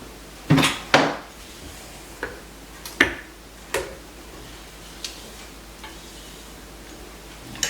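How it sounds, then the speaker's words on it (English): Spatula stirring a pumpkin mixture in a bowl, giving a handful of sharp, irregular clicks and scrapes against the bowl with quiet gaps between them, close and alone without talk. "I'm gonna use my spatula to stir it"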